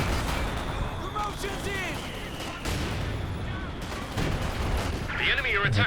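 Mortar shells and gunfire in Company of Heroes 2 crack and thud in rapid bursts at close range, with sharp impacts scattered through the battle din and a voice talking over it.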